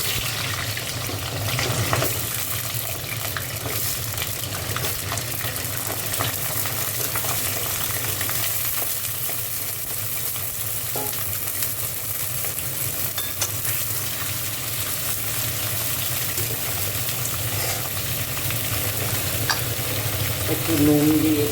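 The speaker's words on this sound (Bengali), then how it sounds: "চলো দেখো, আলুটা একটু ভালো করে ভেজে নেবো কাঁচা তেলে।" Potatoes fry in oil in a wok, hissing in a dense, continuous sizzle up close. Scraping and stirring noises are scattered through it for about twenty seconds, with no talking over it.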